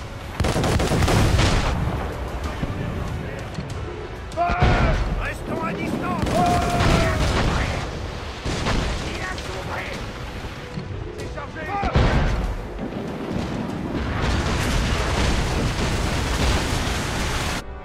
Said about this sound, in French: Arme tes mortiers